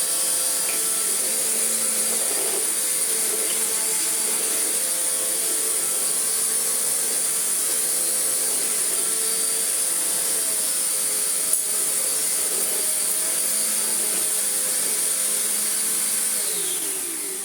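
A vacuum cleaner runs continuously on a hard floor, its head with rubber squeegees giving a loud, steady high-pitched motor whine and airflow roar, close and unbroken.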